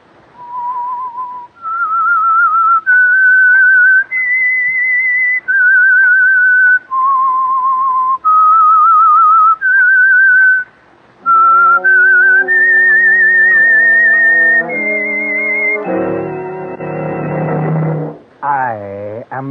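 A clear, close whistled melody of sustained single notes stepping up and down, the theme of the radio drama The Whistler, followed by the tune taken up by instruments and swelling to a dramatic ending.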